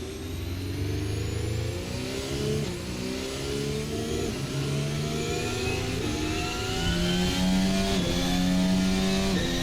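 A Red Bull RB20 Formula 1 car in Assetto Corsa pulls away from a standing start, its engine revving and climbing through gears with rising whining tones, loud and close without talk.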